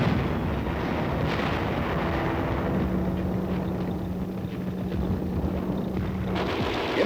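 Battle noise from a Korean War film, a dense continuous rumble of distant artillery and gunfire with a low steady hum, no clear individual shots standing out.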